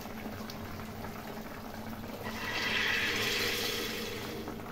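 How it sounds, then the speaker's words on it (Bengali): Rohu fish curry with potato and pointed gourd simmering in a pot, a steady close bubbling that swells louder midway before easing slightly, with no talk. "এখন ফুটিয়ে নেব।"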